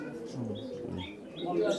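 A male Aliwala pigeon coos at a pigeon farm, a brief low burbling call heard close while someone talks.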